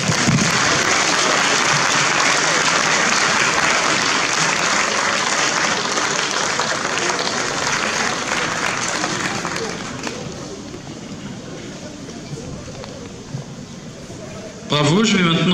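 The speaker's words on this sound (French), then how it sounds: "On peut les applaudir chaleureusement." Warm audience applause at a youth chess championship prize ceremony in Agen, a dense, loud wash of clapping that thins and fades after about ten seconds, then a voice returns at the end.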